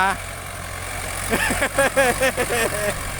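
A Kubota ET 14 hp two-cylinder engine, hitched with a Ford tractor, pumps water into a rice field. It holds a steady low idling drone throughout while people talk over it in the second half.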